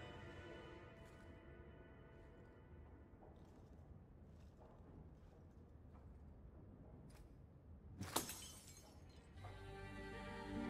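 In the video game Dragon Age 2, a glass smashes against a wall: one sudden, bright shattering crash cuts through quiet ambient game sound, followed by a swell of background music.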